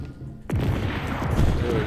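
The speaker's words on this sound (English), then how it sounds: "Stop freaking shooting at me." Enemy gunfire aimed at the player in a Black Panther video game bursts in abruptly after a quiet half-second and continues as a dense, steady barrage with rumbling, cracking texture to the end.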